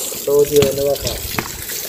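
Water runs from a tap in a short gushing burst while a voice talks over it, the flow steady across the brief moment.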